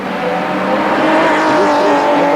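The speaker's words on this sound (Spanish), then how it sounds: "Luis Miguel Arias, que participa en esta ocasión con un BMW M3" Touring race cars roar past at close range during practice at the Alcañiz circuit in 1988, a loud sustained engine wail that rises and shifts as they pass.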